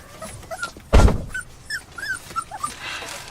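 Several young puppies whimpering, yipping and squealing close by, high thin cries scattered throughout with one louder burst near the start.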